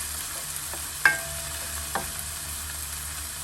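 Green sweet pepper and red pepper cook down in a pan with a quiet, steady sizzle, broken by a couple of sharp utensil clinks and a stirring scrape.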